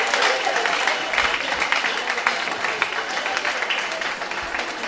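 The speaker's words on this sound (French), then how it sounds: "Acclamons très fort." A church congregation claps loudly and steadily throughout, a dense wash of applause with crowd noise and a few voices mixed in.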